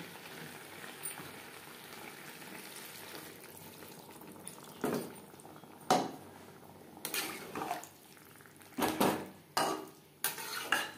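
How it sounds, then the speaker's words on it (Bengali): Potato and jackfruit pieces being stirred with spices in a pan over a medium flame, a quiet sizzle for the first seconds, then several louder spoon scrapes and knocks against the pan toward the end. "মশলার সাথে আলু এঁচোড় কষিয়ে দেব। 5-6 মিনিট নাড়াচাড়া করে নেওয়ার পর দিয়ে দেবো জল।"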